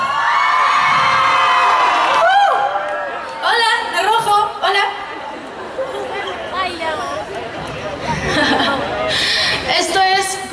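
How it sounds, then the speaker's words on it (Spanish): Concert crowd of fans screaming and cheering loudly, high-pitched shrieks and whoops rising in waves close by, with someone speaking over the noise at times. "Las veo gritando demasiado por acá."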